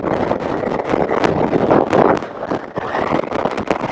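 Strong wind gusts buffet a scooter rider on a highway in Peru, a loud rumbling roar of wind noise against the microphone that swells and fades, with no talk.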